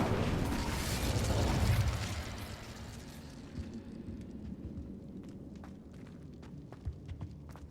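An Incendio fire spell cast in Hogwarts Legacy, a loud whooshing burst that swells for about two seconds and then fades into crackling, with small scattered pops trailing after it.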